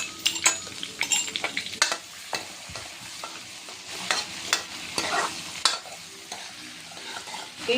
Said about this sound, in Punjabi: ਸਾਡਾ ਲਸਣ ਭੁੱਜ ਗਿਆ ਆ